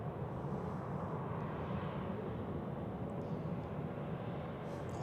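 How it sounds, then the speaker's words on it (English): A Sun Express Boeing 737 MAX 8 bound for Antalya rumbles at Zurich Airport in gusty crosswinds, a faint, distant and steady low jet-engine drone with wind noise and no nearby voices. "here we have Sun Express with the Boeing 737 MAX 8 to Antalya"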